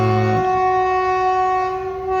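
A train arriving at a railway level crossing sounds a sustained, steady tonal horn blast that carries on, loud and alone, with no voices.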